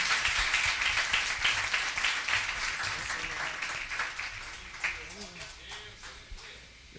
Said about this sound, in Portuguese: Receba o servo do Senhor com palmas